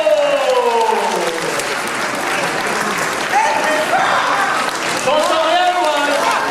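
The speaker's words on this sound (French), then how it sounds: "Vous allez sortir derrière Marie sous les applaudissements de" Audience applause for children walking out at a French Cap Fraternité event, steady dense clapping throughout with crowd noise and voices talking over it.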